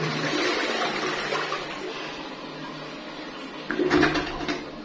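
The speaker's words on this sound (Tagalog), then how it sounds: "Para alam na talagang nagpa-flush ng mabuti yung toilet." Water rushes and gurgles from a high-pressure toilet flush, fading to a softer trickle, with a brief clatter near the end.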